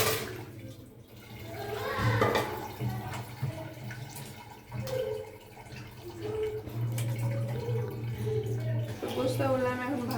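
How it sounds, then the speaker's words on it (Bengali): Beef is washed in water in a village kitchen, with continuous splashing and running water sloshing close by. A voice talks over much of the washing. "আগে মাংসর কাজ করতে হবে, মাংস ধুয়ে দিতে হবে।"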